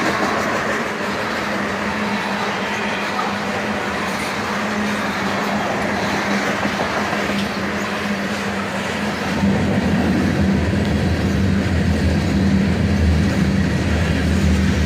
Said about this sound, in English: Two Union Pacific and a Canadian National locomotive